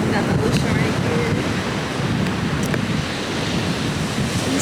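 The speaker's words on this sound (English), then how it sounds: "Got the ocean right here." Ocean waves at a beach: a constant, loud roar of surf with wind buffeting the microphone, steady throughout with no clear breaks between waves.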